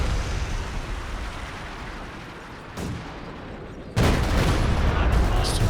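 Land Mattress rocket barrage in Company of Heroes 2, a 3v3 match on a winter map: a sustained rumbling roar of distant launches and impacts that swells into a louder, denser burst near the end, with no talk over it.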